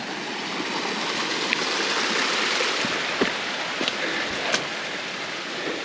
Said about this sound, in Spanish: Como hay agua aquí pasando por la acequia, ha jalado de ahí